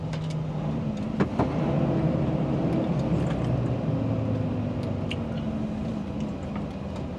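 Fully loaded vehicle held in fifth gear on a steep descent toward the Abercrombie River in New South Wales, a steady droning engine hum with shifting tone, continuous and fairly close, with no talk.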